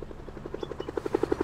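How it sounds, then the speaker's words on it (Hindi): A helicopter in the video game Tchia beats out a steady, rapid rotor chop that grows louder and stronger over the short stretch, as if drawing nearer. "ये हेलीकॉप्टर है"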